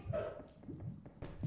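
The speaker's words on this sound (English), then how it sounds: "Was it my dog barking?" A dog gives a few short, faint barks and yips at a distance, heard through an online game voice chat.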